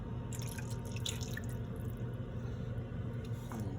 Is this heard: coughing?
no